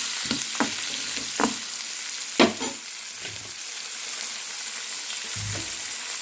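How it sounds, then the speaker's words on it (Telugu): Ginger and tomatoes fry in a pan with a soft continuous sizzle, broken by several sharp scraping stirs and a clank near the middle, with no voices. "కొంచెం అల్లం ముక్క అలానే టమాటాలు అవి కూడా వేసి అయితే బాగా మధ్యంత వరకు అయితే ఫ్రై చేసి వేసుకున్నాం"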